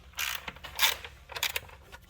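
A ratchet is worked on the 8mm intake bolt of a 2015–2017 Mustang 3.7 V6. There are a few short bursts of clicking strokes, close and fairly quiet, with pauses between them and no talking.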